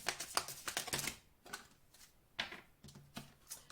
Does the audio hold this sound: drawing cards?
yes